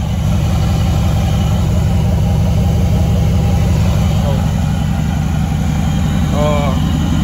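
A car with an LS engine swap idling steadily in a garage, a constant low rumble held at even loudness the whole time, close by and alone without talk.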